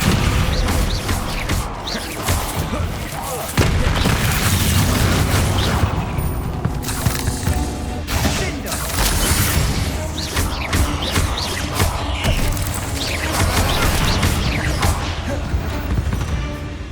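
Descendo and Depulso spells cast in Hogwarts Legacy, heavy booms, crashes and thuds in a dense, loud combat barrage, repeated impacts with whooshing bursts throughout and no clear talk.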